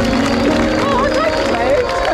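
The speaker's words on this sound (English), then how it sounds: "Give that a round of applause." A crowd at a Tough Mudder obstacle-course event in London South applauds and cheers loudly and steadily, with a voice talking over the dense noise.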